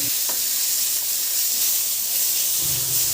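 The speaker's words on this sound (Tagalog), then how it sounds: "At isunod ko na rin ilagay yung sibuyas. Igisa lang din ng mabuti hanggang sa mag-translucent." Onion sizzling in a hot pan with garlic and ginger, a steady close frying hiss with light crackle and a soft stirring scrape, no voices.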